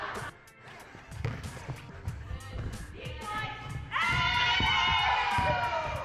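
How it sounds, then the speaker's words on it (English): A crowd of children cheers and shouts at a basketball court, starting as scattered voices and sharp thuds, then swelling into loud, sustained high-pitched cheering for the last couple of seconds. "Okay, I got a crowd going right now."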